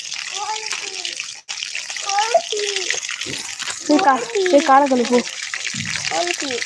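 Tap water runs steadily for someone washing their feet, mixed with a child's chatter and other voices talking close by throughout.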